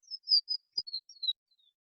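A tiny canyon bird gives a quick series of high, thin chirping notes from a recording, several short whistles in a brisk irregular run, clear and close with no other sound.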